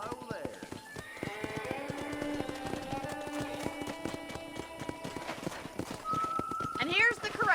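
Horses at a ranch corral in the PS5 remake of the video game Red Dead Redemption clop their hooves in a steady, busy rhythm, with a loud whinny rising near the end and voices murmuring underneath.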